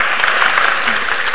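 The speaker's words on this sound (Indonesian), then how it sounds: "beri tepuk tangan sekali lagi buat bintang tamu saya" A studio audience on an Indonesian health talk show gives a guest a brief round of dense, even applause, close and steady for just over a second.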